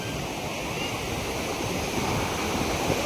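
Ocean waves wash onto Vagha beach in Goa in a steady, loud broadband roar of surf that continues without break, with no voices heard.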